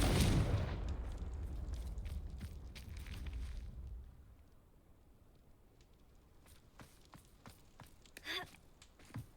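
A Confringo fire spell from Hogwarts Legacy goes off as a loud, rumbling blast at the start, with a burning roar that fades after about four seconds. Sparse crackles and a few sharp clicks follow.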